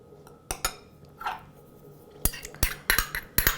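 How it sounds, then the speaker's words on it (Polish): A spoon clinks and taps against a bowl while remoulade sauce ingredients are mixed, making scattered sharp metallic knocks in short clusters over a quiet background. "Wszystkie składniki ze sobą po prostu mieszamy."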